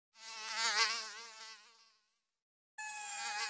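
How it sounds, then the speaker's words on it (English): A mosquito whines in two close, buzzing bursts separated by a short silence, the first swelling and fading as it passes. "It's a very small insect, but the mosquito is bothersome."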